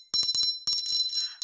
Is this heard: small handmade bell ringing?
yes